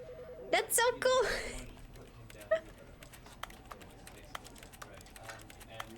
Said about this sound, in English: listen to the sound effects. It's a keyboard.